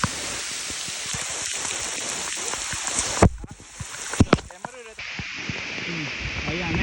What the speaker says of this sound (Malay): Ni memang hujan lebat teruk ya.